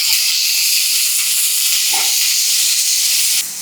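Onion sautéing in oil with a pinch of salt, browning for an aubergine masala: a steady, loud broadband sizzle and hiss that runs unbroken throughout, with a faint clink midway and the sizzle easing slightly at the end.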